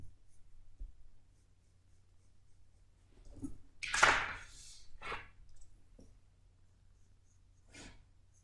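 A pencil sweeps a large oval onto paper, heard as a few soft, scratchy strokes clustered in the middle, with the loudest scrape brief and close against a quiet room.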